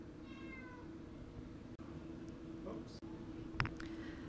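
A domestic shorthair cat at a pet shelter gives a few faint, short meows over a steady low hum in a quiet room.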